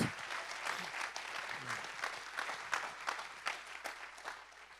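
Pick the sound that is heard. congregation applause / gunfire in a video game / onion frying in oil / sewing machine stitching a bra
congregation applause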